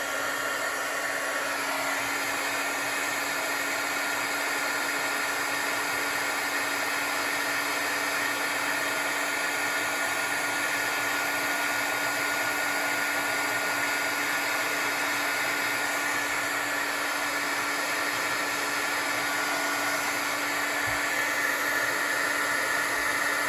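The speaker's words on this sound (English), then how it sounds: "So let's heat emboss this." A heat embossing gun blows steadily and loudly close by for the whole stretch, a continuous whooshing roar with a constant electric whine, used on a stamped card.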